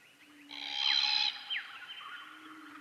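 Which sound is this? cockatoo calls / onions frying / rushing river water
cockatoo calls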